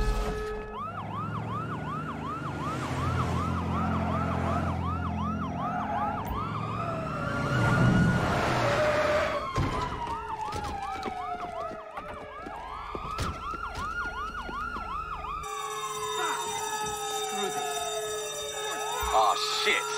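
Police sirens wail and yelp during a Grand Theft Auto bank heist, several of them overlapping under game gunfire and engine noise, loud and continuous, with game characters talking.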